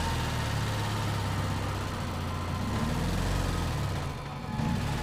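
A truck engine rumbles steadily in the Resident Evil 4 video game, a low continuous drone with only a brief dip near the end.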